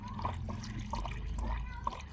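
Coolant drips from a car's radiator cooling system while the system is bled after a new radiator hose is fitted: irregular small drips and trickles over a low, steady hum.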